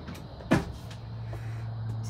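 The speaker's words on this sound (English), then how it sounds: "To the right of that is a big drawer." A big drawer in a 2022 Xtreme Outdoors Little Guy Mini MAX camper slides open with one brief knock-and-slide sound, heard close against a steady low hum.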